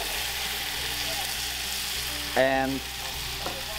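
Chopped peeled tomatoes and onions frying in a pan give a steady close sizzle throughout, with a brief spoken word partway through.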